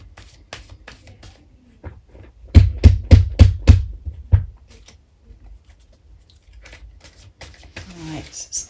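Tarot cards shuffled and cut for a twin flame reading, giving a quick run of crisp, close riffling flutters in the middle, with sparse soft card handling before and after.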